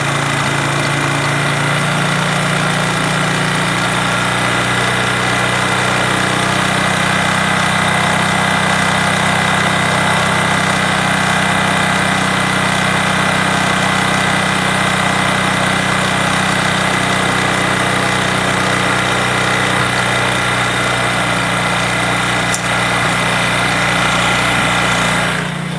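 A motorcycle engine idling steadily during carburettor tuning, a loud continuous low hum with a rattly edge that holds throughout without voices.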